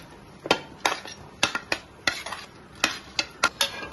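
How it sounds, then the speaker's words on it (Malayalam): A spoon stirs fried chicken into chicken curry in a pan, giving a dozen sharp metallic scrapes and clinks in an uneven rhythm over a faint sizzle, close up with no talking. "നമുക്ക് നന്നായിട്ടൊന്ന് മിക്സ് ചെയ്ത് കൊടുക്കണം"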